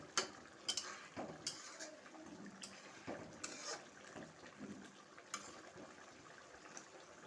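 Chicken meat being stirred in a pan with cumin, coriander and meat masala, giving repeated soft scraping and clinking contacts with brief sharper knocks, close and moderately quiet, with no talking.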